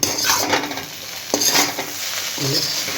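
Veg chow mein being lightly stirred after coriander is added, the gas just switched off; soft scraping and clinking of a utensil against the pan over a faint lingering sizzle, with no talking.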